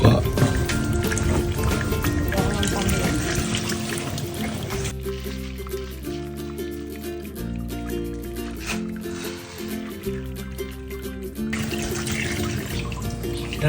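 Water pours into a clay pot while sinigang na bangus is being cooked, a continuous gushing, splashing flow that changes as the pot fills, with background noise throughout.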